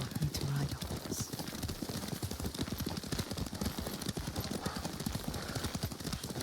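Horse hooves pound in a steady, continuous galloping clip-clop while riding in the Ghost of Tsushima video game, close and fairly loud throughout.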